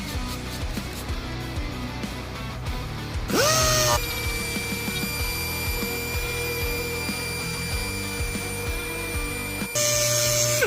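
A DA sander wet sanding the clear coat of a guitar gives a continuous close motor whir with a steady high tone, changing pitch briefly when the pad meets the surface and again near the end.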